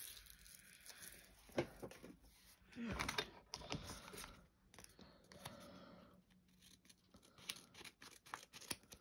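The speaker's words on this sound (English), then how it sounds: "scissors." Scissors snip through paper in several short, crisp bursts while crafting a pirate costume kit, with rustling paper and a quiet voice now and then in the background.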